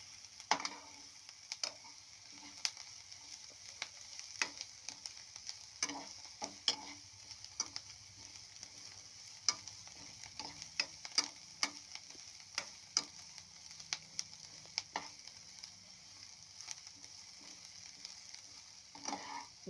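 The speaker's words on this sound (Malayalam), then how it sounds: "സവാള വഴന്നു വരുന്നുണ്ട്" Onions sautéing in a pan, a soft, faint sizzle with scattered clicks and taps of stirring spread throughout, no voices.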